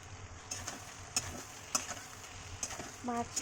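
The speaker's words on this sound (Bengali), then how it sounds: "ভাজা মাছ দিয়ে ভালো করে নেড়ে চেড়ে নিয়ে" Quiet frying hiss with intermittent spatula scrapes and clicks against the pan as fried fish is stirred in mustard paste; a short voice sound near the end.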